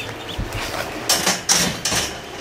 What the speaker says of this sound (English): He'll just keep banging at the door.